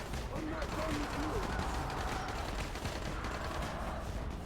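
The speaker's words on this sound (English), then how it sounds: "Someone's shooting the zombies, man." Gunfire aimed at zombies in Dying Light on PC, a distant crackle of shots under steady background noise, with someone talking over it.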